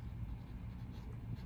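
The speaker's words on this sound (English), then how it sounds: "I gotta find a place to write her name" A pen writes a name on paper for a shop hop drawing, a soft continuous scratch lasting about a second and a half, close and quiet with no talk over it.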